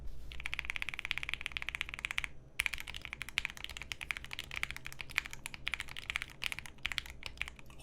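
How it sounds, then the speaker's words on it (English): Steady typing on a Bepovan mechanical keyboard fitted with lubed Lil Tyke switches, a close, dense stream of crisp keystroke clacks with a brief pause partway through. "Let's do a little typing test"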